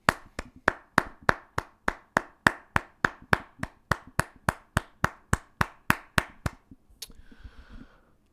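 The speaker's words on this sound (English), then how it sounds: "a round of applause is in order" A single person claps slowly and steadily, about twenty sharp, close claps at an even pace, followed by a brief faint rustle once the clapping stops.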